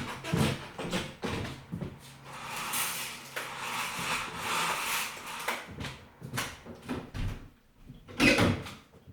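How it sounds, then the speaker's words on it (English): Bedroom windows being closed, with several knocks, slides and latch clunks spread through the stretch, fairly close and alone, a louder clatter near the end. "I'm just going to close the windows again."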